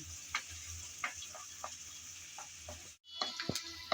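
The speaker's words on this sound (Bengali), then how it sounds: "তেল গরম হয়ে যাওয়ার পর দিয়ে দিচ্ছি কিছুটা পরিমাণ পেঁয়াজ কুচি হালকা করে একটু নেড়ে চেড়ে নিলাম" Chopped onions fry in hot oil in a pan for a potato and ridge gourd curry, giving a faint, steady sizzle with scattered small ticks and pops as they are stirred, broken by a brief gap near the end.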